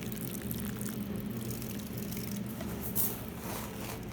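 Water pours from a can over freshly planted seeds in soil, giving a steady soft patter and trickle with a brief louder splash near the end.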